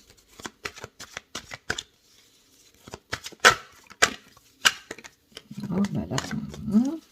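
A deck of oracle cards being shuffled up close in a string of crisp, rapid riffles and flicks, followed by a voice speaking near the end.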